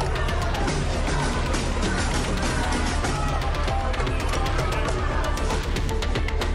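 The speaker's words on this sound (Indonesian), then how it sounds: "Ini adalah suara ratusan bahkan ribuan warga di Amerika Serikat saat menggelar aksi demo" A large crowd at an anti-war street demonstration in the USA, a dense, continuous roar of many voices chanting and shouting together, loud and unbroken throughout.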